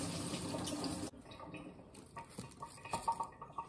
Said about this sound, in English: So I'm just gonna wash it anyway.